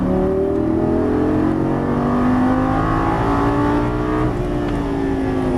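A Lamborghini Gallardo LP550 on a racing track accelerating hard out of a turn, its engine loud and close, the pitch climbing steadily with a strained rising roar and no voices.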